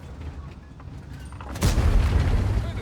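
A tank gun fires in World of Tanks with one sudden heavy boom partway through, followed by a rumbling low tail, under ongoing battle noise.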